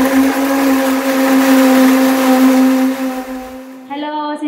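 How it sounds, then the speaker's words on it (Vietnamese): A blender runs at its highest setting, crushing ice for a blended coconut coffee in a 500 ml cup, with a loud steady motor whine that holds, then shifts pitch near the end. "Rồi bấm cái nút xay mạnh nhất."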